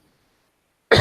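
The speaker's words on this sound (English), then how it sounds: "Excuse me while I cough up an arytenoid cartilage" A single short, sharp cough bursts out at the very end after near silence, close and loud.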